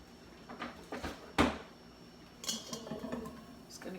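Battered hearts of palm tossed in a sifter of flour give off a few soft, scattered rattles and shuffling knocks, one sharper clack standing out amid faint, quiet handling noise.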